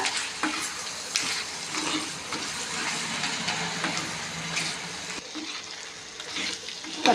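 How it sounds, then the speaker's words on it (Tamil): Country chicken pieces with chilli powder and spices fry in oil in a clay pot for a gravy, stirred steadily. A continuous close sizzle runs under repeated scraping and stirring strokes. "ஒரு ரெண்டு நிமிஷம் நல்லா வேகட்டும் எண்ணெயில்"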